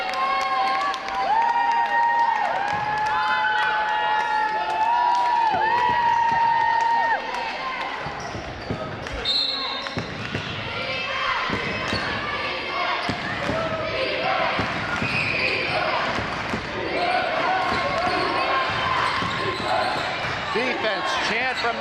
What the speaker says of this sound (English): Chant from the Newport crowd.